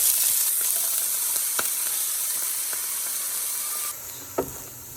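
Cut potatoes hit hot oil with cumin seeds in a pan, giving a loud, steady hiss of sizzling frying with a few light clicks and stirring knocks near the end.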